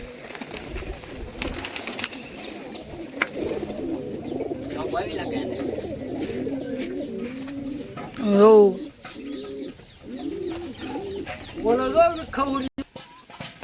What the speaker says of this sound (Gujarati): થોડા કબૂતર બહાર છે.